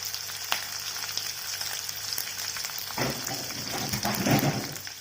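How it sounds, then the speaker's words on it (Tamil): Onions and dried red chillies sauté in a pan with a soft, steady sizzle that swells louder partway through as the mixture is moved around. "வெங்காயம் கொஞ்சம் வதங்கி வரட்டும்"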